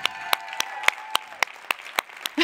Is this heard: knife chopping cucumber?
no